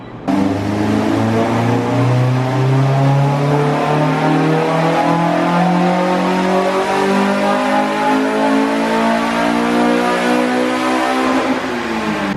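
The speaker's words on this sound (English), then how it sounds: "It's still only revving to like 8 grand" A loud, close Honda Civic engine with a Type R swap revs hard on a dyno, its pitch climbing steadily for several seconds in one long pull to about 8,000 rpm before dropping off at the end.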